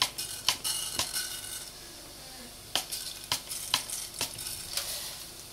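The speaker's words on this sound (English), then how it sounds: "black jeera is cracking in the oil" Black cumin seeds crackling in hot oil in a pan, with sharp scattered pops and soft sizzling at close range, quiet and irregular.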